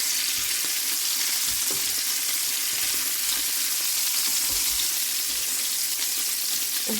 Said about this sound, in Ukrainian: Курочка вже в мене так гарно підсмажилася, красива вже така.